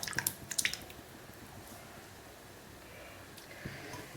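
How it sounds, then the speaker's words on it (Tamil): Toor dal cooking water poured into rasam: a few close splashing drips in the first second, settling into a faint, steady liquid trickle, with no speech. "அப்புறம் இந்த துவரம்பருப்பு தண்ணியும் ஊற்றிடலாம்."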